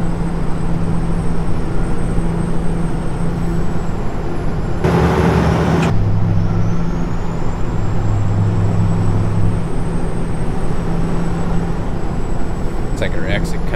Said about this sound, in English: The Kenworth 900 pulling up to our side there.